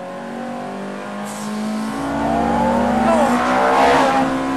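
A Ferrari F430 Challenge race car accelerates hard, its engine note climbing steadily in pitch and growing louder as revs build, with a brief exclamation at the start.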